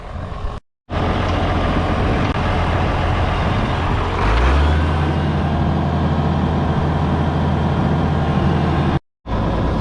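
Farm dump truck hauling manure without a spreader, its engine running loud and steady close by, with a rising drone near the middle as it revs, and two brief dropouts.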